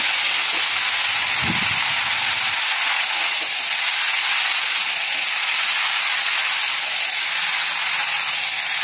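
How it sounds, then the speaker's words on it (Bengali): Tomatoes frying in a little oil with panch phoron give off a loud, steady sizzle and hiss that fills the whole stretch close up, with a brief stirring scrape early on. "চলুন এবার অল্প করে যত সামান্য একটু তেল দিয়ে 5 ফোড়ন দিয়ে আমি টমেটোগুলোকে একটু নাড়াচাড়া জাস্ট করে নেব"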